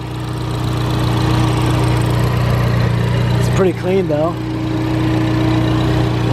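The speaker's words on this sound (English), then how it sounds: "Alright, so here's the engine. It's definitely got some performance parts on it. You can hear it." A car engine with performance intake and exhaust parts idles loudly with a deep, throaty hum throughout, and a person briefly speaks partway through.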